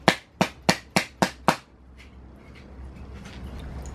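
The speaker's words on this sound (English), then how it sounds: "hammer it nice and flat like I just did to this piece" A hammer strikes sheet metal six times in a quick, even rhythm, each blow sharp and ringing briefly, followed by quiet room noise; flattening a template piece for rusty floor repair on a VW Bus.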